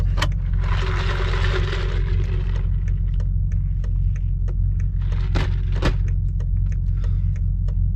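BMW M550i sedan with a 500 hp engine pulling at full throttle on a road, a steady loud low drone with a brief broadband rush early on and scattered clicks and rattles.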